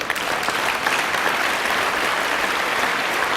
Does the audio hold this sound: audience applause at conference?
yes